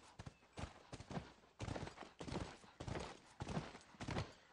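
Horse hooves in The Last of Us clopping at a steady, rhythmic gait, with close, crisp repeated hoofbeats and no talking over them.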